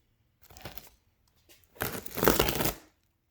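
Tape-sealed wrapping being torn open by hand, a short crinkly rip and then a longer, louder tearing rustle, close and alone.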